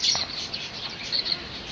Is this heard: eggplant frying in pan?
no